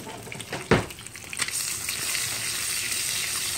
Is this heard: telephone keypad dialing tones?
no